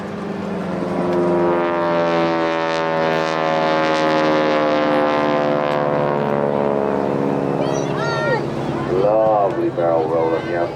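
WW2 Harvard propeller aircraft performing aerobatics at a Blackpool airshow, a loud rasping engine and propeller drone rising and falling in pitch as it flies a barrel roll, with an announcer talking near the end.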